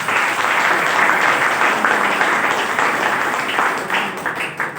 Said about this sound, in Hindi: मेरे ग्रेट अपलाइन के लिए तालियां चाहूंगा मैं